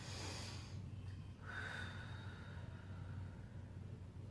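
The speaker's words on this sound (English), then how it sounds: "Remember to breathe in and out." Breath drawn in and let out during an anterior stretching exercise: a strong, close inhale and exhale with a faint wheezy edge, heard alone over a low steady hum.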